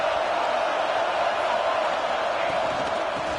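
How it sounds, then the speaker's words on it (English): Football stadium crowd at a #5 Texas vs #1 Arkansas game roaring for the defense, a broad sustained wash of cheering that stays at an even, distant level throughout. "this crowd coming to life here, trying to help the defense get a stop"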